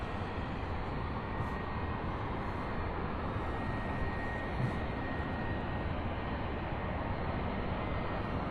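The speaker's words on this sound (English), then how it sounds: "Coming in for a landing, though, right now we have a 767 out of Sacramento" A UPS Boeing 767 from Sacramento approaches to land, giving a steady, distant-sounding broad roar of engines that stays even and unbroken throughout.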